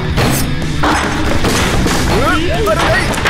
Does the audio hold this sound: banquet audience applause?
no